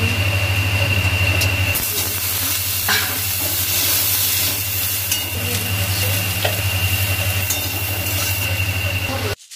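Lentil dumplings (bori) fry in hot oil with a steady, loud, close sizzle and crackle, a low hum running beneath and a few light clinks of stirring.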